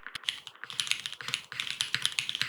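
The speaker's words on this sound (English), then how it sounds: "As a reference, this is what a higher pitched keyboard sounds like." Typing on a higher-pitched mechanical keyboard, a rapid, close, bright clatter of crisp key clicks in quick uneven runs with a brief pause midway, heard alone with no voices.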